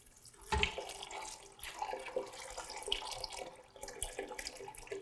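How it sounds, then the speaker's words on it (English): Tap water pours steadily into a big pot of soaked black-eyed peas, a close, continuous splashing rush with brief shifts in flow and no talking. "put your soaked peas in a nice big pot and cover it with a couple of inches of water"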